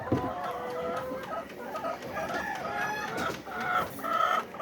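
Layer hens clucking and squawking in a two-tier cage on a farm, busy overlapping calls close by with a rooster crow mixed in, steady throughout.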